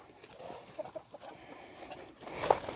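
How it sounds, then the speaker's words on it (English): A rooster in a backyard chicken flock gives a run of soft, irregular clucks, close and moderately loud, followed by a sharper squawk near the end, with no speech. "a little intermission to deal with the rooster"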